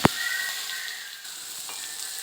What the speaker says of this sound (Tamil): நல்லா வதக்கிடுவோம் அப்படின்னா காய் நல்லா வேகட்டும்